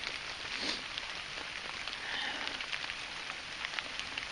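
Steady rain falls on a woodland camp in November, a dense, even patter on surfaces that continues throughout with no voices.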